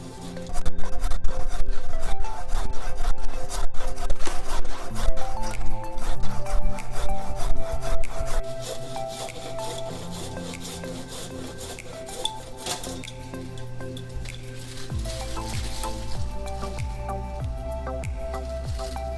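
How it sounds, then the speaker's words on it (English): Small branches being trimmed off a log to make a bird perch, with loud rapid rasping and scraping strokes for about eight seconds, then quieter intermittent scraping and clicks, close and without talk. "So we're just trimming off all these small pieces off the log now."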